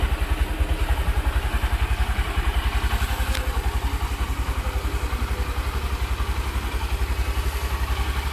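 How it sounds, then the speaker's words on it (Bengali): A Honda SP 125 motorcycle idles steadily after a quiet start, its single-cylinder engine giving a close, even, rapid low thumping pulse with no speech over it. "সাউন্ড শুনে বোঝা যায় যে কতটা রিফাইন্ড ইঞ্জিন আছে হচ্ছে হন্ডার"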